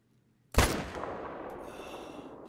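A rifle shot at a grizzly bear in the hunting video game theHunter: Call of the Wild, heard as one sharp, loud report followed by a long decaying echo tail, with no other sounds.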